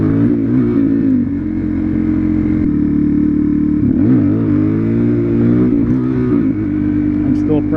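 A motorcycle engine revs steadily and loudly through a second-gear clutch-up wheelie attempt, its pitch rising and dipping with throttle changes, heard up close by the rider under wind noise.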